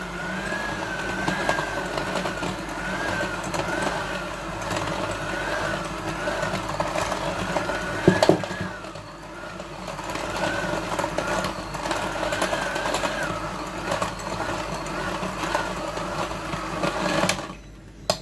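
An electric mixer whirs steadily while blending almond chocolate cake ingredients, a continuous loud motor drone with a wavering pitch, briefly dipping midway and cutting off near the end.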